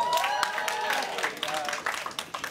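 Comedy club audience clapping and applauding together, a dense sustained patter of hands at moderate volume with a voice speaking over it.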